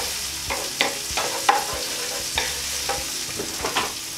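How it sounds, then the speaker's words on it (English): Steady sizzling of aubergine masala ingredients frying in a pan, with intermittent scraping and stirring clicks throughout. "around the pan, just frying it just to soften it up"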